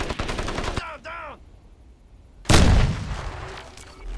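Loud gunfire and a heavy blast of a grenade explosion in the video game Crysis, sharp bursts of shots early on, then a big boom midway that rings out and decays into lingering rumble and debris.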